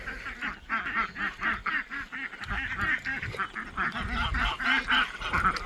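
Turkeys and other farm fowl being herded along a fence line make a busy, continuous run of honking, gobbling and quacking calls, close and fairly loud, with overlapping bursts throughout.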